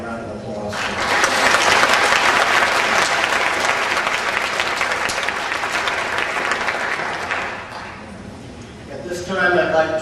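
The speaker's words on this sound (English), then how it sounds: "Let's have a round of applause." Audience applause fills a rodeo hall of fame induction banquet, a loud sustained wash of clapping from a room full of people that fades briefly before a final swell near the end.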